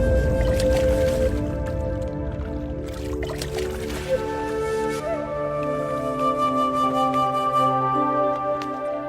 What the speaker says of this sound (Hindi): महाराज, अब आप इन दोनों घड़ों को पानी में डाल दीजिए।